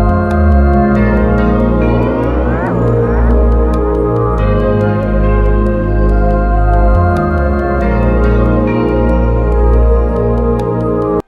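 Psychedelic guitar-style synth melody at 140 BPM made in FL Studio, sustained layered tones with pitch-bending swoops and steady rhythmic accents, loud and continuous, no voices.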